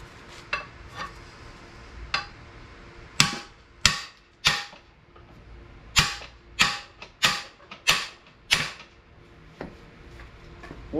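Metal hammer strikes drive out an engine cam bearing, a dozen or so sharp, close clanks, a few scattered at first, then a quicker, louder run of blows near the end.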